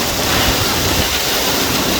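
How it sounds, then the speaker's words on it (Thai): Hailstones pelt down in a violent summer storm in Sisaket, a dense, loud, unbroken clatter and hiss filling the whole moment. "ลูกเห็บโอ้พายุแรงมากเลย"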